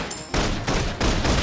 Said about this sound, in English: Requesting full suppression gunfire